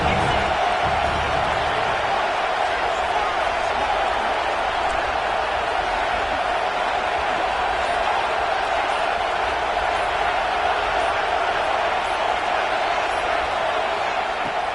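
A football stadium crowd keeps up a steady, loud roar of cheering during a red zone play, a continuous din of noise with voices mixed in.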